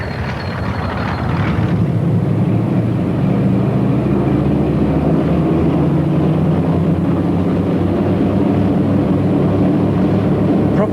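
Deep, heavy drone of a Bristol Freighter's piston engines powering up for takeoff, a loud continuous roar that swells and steadies, with a low rumbling throb close to the aircraft.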